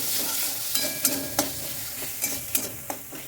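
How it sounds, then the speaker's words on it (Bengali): Green chili paste and ginger paste hiss in a pan with onion and tomato for a dhaba-style egg curry. A soft, steady sizzle runs under about half a dozen sharp spatula scrapes and knocks. "হাফ টেবিল স্পুন কাঁচা লঙ্কা বাটা এগুলো দিয়ে আমি কিছুক্ষণ একটু নাড়াচাড়া করে নিই"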